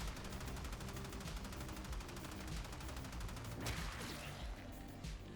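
Rapid automatic gunfire from a gun in Warframe rattles off in a steady, dense stream of shots, loud and continuous through the whole stretch with a brief burst of heavier impact near the end.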